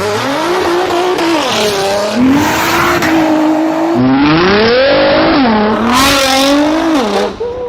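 A Nissan GT-R accelerates hard at speed, its engine loud and close with revs sweeping up and down through repeated gear changes and no voices over it.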